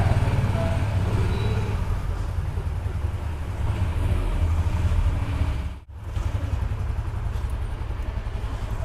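A Yamaha LC135 V8 fuel-injected motorcycle runs steadily at close range, its engine rumble constant with wind noise over the microphone and a brief dip midway through.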